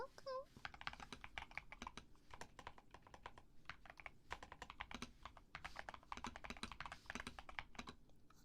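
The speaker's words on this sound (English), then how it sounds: "just heard you typing as I say it" Rapid, steady typing on a computer keyboard, close by, with irregular clicking keystrokes running throughout.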